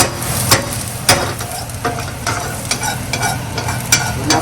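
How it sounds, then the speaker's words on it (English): Onions frying in a pan for an everything bagel egg sandwich: a steady, close hiss of sizzling oil, broken every second or so by sharp scrapes and clatters as the pieces are stirred. "Burning the onions, we want them to, when you start smelling them"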